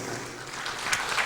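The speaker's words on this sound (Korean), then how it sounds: "주님께 영광의 박수 올려드리겠습니다." A church congregation at a Sunday morning worship service claps together in a brief, moderately loud burst of applause heard from within the sanctuary.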